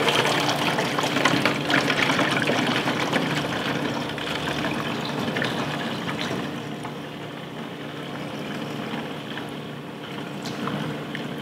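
Speed Wipe detailing liquid poured from a container through an Easy Fill funnel into a professional sprayer bottle, a steady close gurgling, splashing flow that continues for several seconds and eases slightly toward the end.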